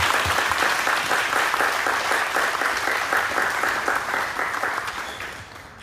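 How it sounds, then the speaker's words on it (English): A crowd at a Medal of Honor ceremony at Riverside National Cemetery gives a sustained round of applause, with dense, steady clapping that fades gradually toward the end. "let's give a nice round of applause and thanks to the crew and staff of Riverside National Cemetery"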